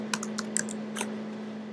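Quick bursts of key presses on a computer keyboard in a quiet room, several irregular clicks close to the mic over a steady low hum, then a pause.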